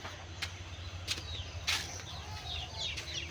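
Chickens clucking in a rural Bengali household, a few soft, scattered calls over a low, steady background murmur.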